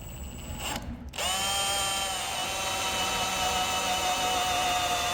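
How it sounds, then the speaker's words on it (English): A step drill cuts holes out to 8mm on a Zayer milling machine, giving a steady, loud whining drone with a rising harmonic pitch that runs continuously after a brief pause at the start, with no talking. "to drill these holes, I'm going to be using a step drill and we're taking it out to 8mm."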